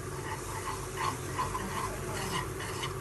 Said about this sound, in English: So let's saute it with a spatula.